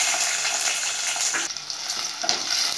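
Lentils and peanuts fry in hot oil for wheat rava upma, giving a close, steady crackling sizzle with brief stirring shifts and no talking.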